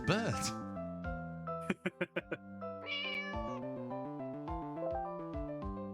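A cat meows repeatedly in a magical murder-mystery video game, several clear, close calls of varying pitch, with a burst of quick plucked game tones in the middle and music underneath.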